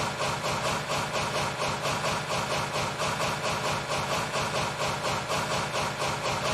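Steady engine chugging of an 1890s Dickson Locomotive Works locomotive in a video game, a continuous rhythmic idle-like pulse at even volume throughout with no talk.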